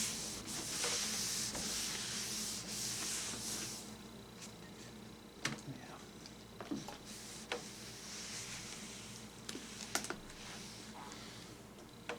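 Wooden cabinet of a 1939 Sentinel radio being wiped down with clean water, soft continuous rubbing and scrubbing followed by scattered light knocks and taps, quiet and close.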